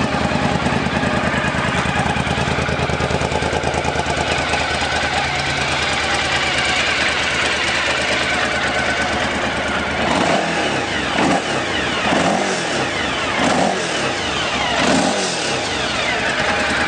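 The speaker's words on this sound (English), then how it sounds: "Let's go ahead and crank her up for you." A fuel-injected 2006 Suzuki V-Strom 1000 motorcycle runs steadily at close range with a constant engine drone, and several low throttle blips or pulses come in the last few seconds. No one speaks.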